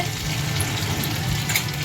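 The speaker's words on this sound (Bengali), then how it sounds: "ভেন্ডি ভাজা চলছে" Okra (bhindi) frying in a pan, a steady hissing sizzle at moderate level with no voices over it.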